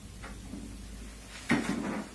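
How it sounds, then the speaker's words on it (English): A left cabinet door knocks: a faint tap early on, then a sharper, louder knock with a short rattle, close by in a quiet room. "А это одна сторона, левая дверца. Слегка приоткрывается и стучит."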